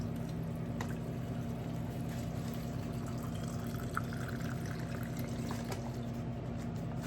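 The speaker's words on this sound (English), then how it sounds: "let's pour this over the top of our ginger now" Alcohol being poured over chopped ginger to make a tincture: a quiet, continuous liquid trickle and splash over a low steady hum, with a few faint clinks and drips and no voices.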